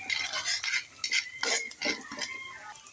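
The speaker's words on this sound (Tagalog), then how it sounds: "Kotsa na natin ang ating bawang at sibuyas." Garlic and onion sautéing in a pan for a simple breakfast, with a utensil scraping and stirring in irregular bursts over a soft, steady sizzle, close up and moderately loud with no talk.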